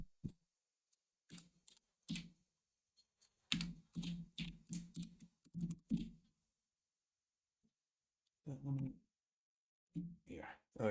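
Computer keyboard typing, with scattered clicks and short bursts of keystrokes close by, broken up by a person talking.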